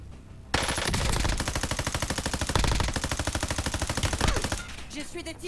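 Rapid automatic gunfire in the online shooter Call of Duty Warzone, a long sustained burst of fast, evenly spaced shots with a brief break midway, loud and close, followed by quieter clicks.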